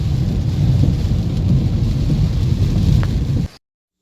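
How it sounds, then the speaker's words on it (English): Heavy rain pours steadily during a windy storm, a dense, loud, unbroken hiss and rumble with a faint distant crack partway through, cutting off abruptly near the end. "It's really raining"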